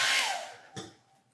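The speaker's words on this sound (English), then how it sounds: "We're gonna blow dryer it right onto the floor and sweep it up." A hair dryer blows loose flakes of silver leaf off a stencil project toward the floor, a loud rushing blast that fades away, followed by a brief soft thud.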